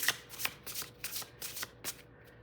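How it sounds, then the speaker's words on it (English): Tarot cards being shuffled in a series of quick riffling bursts, close and fairly quiet, with short pauses between each shuffle. "We'll split the deck after I shuffle just a bit"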